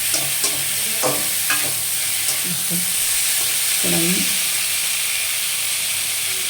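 Potatoes for a chickpea curry sizzle and fry steadily in a pan, with a few sharp scraping stirs of a spatula early on and a soft stir near the end, all fairly close with no talking.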